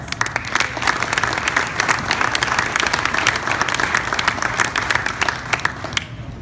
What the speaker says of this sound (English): That is your BIA, and you guys are doing that on a daily basis. Round of applause.